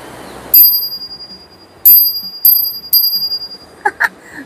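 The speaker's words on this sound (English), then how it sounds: "But sometimes I do use a bell." A Brompton folding bike's bell rings four times, each a sharp, bright ding followed by a ringing, fading tail. Two quicker taps come at the end. The bell sounds close and loud against a quiet background.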